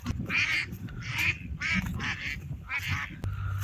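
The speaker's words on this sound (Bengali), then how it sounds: "দেখেন পানির মাঝে বিলের মধ্যে হাঁস" Ducks on a marsh quack repeatedly in a nasal, rhythmic series of calls, fairly close, with a low rumble of background noise and no talking.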